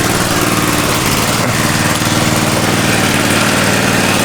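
Small engine of a gold highbanker-to-dredge conversion running steadily at close range, a loud, even buzzing drone with no pauses.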